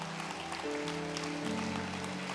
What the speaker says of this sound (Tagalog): Amo hatag ni mong pinakakusong nga palakpak, Lord, karong buntaga.